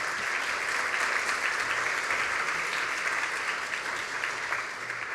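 A conference audience applauds steadily and densely for about five seconds, a full, even wash of many hands clapping with no break and no talk over it.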